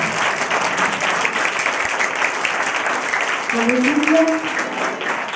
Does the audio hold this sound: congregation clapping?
yes